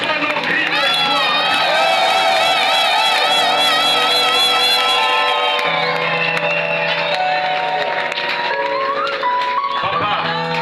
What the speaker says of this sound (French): Reçois nos cris de joie.